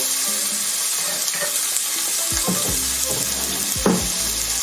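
Tomatoes and green pepper sizzle steadily in a pan on an electric stove at medium heat, a continuous close frying hiss with a few soft stirring scrapes and clicks, no voices.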